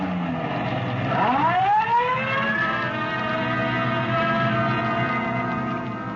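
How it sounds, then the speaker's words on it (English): A police car siren wails, rising steeply in pitch and holding a high, steady tone, heard over a rumbling vehicle engine, fairly close and loud, with no talking. "Code 3, red light and siren."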